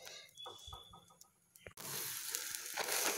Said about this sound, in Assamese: এয়া দুই নম্বৰ ৰুটিখন ভাজিছোঁ